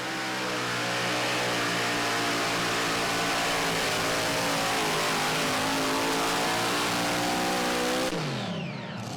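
A super modified pulling tractor engine roars steadily at high revs as it drives down the pulling track, loud and sustained for several seconds before cutting off abruptly near the end.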